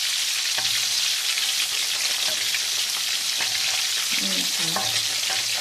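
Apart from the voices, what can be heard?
deep frying sun-dried striped catfish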